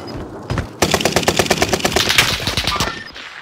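Rapid automatic gunfire in a shooter video game, a loud sustained burst of evenly spaced shots lasting a couple of seconds after a few scattered pops, ending abruptly.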